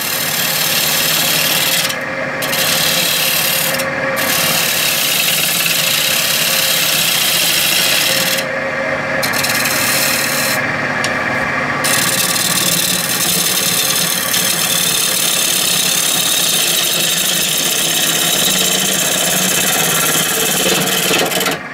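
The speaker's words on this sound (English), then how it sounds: "Except the lathe has no pep." A wood lathe in a woodworking shop runs steadily throughout, a dense continuous whir with rasping tool-on-wood scraping at close range, broken by a few brief pauses in the cutting.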